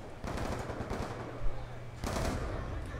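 Rapid automatic gunfire in Call of Duty: Black Ops 2 in two dense bursts separated by a short lull, loud and close, with a faint game hum underneath.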